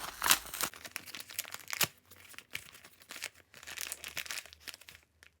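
Crinkling and tearing of a parcel's packaging up close, with rustling bursts and sharp rips coming and going in quick, irregular spurts.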